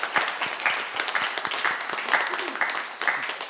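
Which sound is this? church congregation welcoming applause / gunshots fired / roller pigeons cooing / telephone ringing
church congregation welcoming applause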